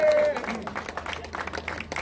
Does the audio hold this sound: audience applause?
yes